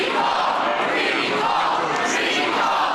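An angry crowd of protesters outside the Senate chambers roars and shouts in a dense, loud, continuous wall of voices, with no single speaker standing out.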